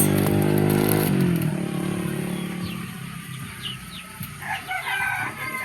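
Backyard chickens at morning feeding time, a rooster crowing loudly up close at the start, then scattered hens clucking and squawking nearby, with faint background noise between calls.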